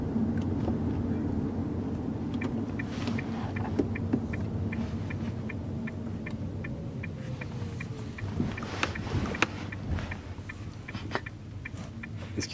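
A 2013 Toyota Auris Hybrid rolls along in electric mode, giving a low steady hum and throb with faint road noise and a soft whine rising and falling, no engine note.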